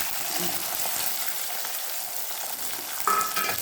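Garlic frying in a hot pan for a Tamil garlic and pepper kuzhambu, a steady close sizzle and crackle throughout, with a brief brighter hiss near the end.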